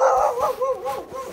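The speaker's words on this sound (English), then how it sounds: "Big dog." A big dog barks and whines in a short run of rising and falling yelps, fairly close and clear, with little else around it.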